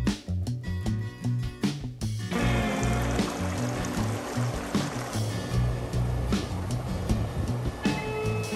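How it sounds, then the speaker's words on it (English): A creek runs over rocks and through vegetation on an offroad trail near Chihuahua Gulch and Loveland Pass, Colorado, a steady close rush of water with a louder, fuller flow after the first couple of seconds. "The sound of the creek running over the rocks and through the vegetation"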